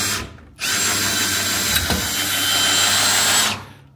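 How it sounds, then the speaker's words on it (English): A hand drill drives a drill-powered trailer valet jack wheel on a boat trailer, whirring loudly and steadily for about three seconds between a sharp start and stop. "you can just use your hand drill"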